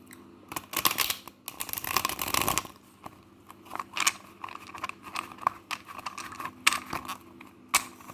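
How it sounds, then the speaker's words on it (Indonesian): Tarot cards being shuffled up close, with bursts of riffling and flicking, one long loud riffle, then scattered softer shuffles and taps. "Kita kocok kartunya."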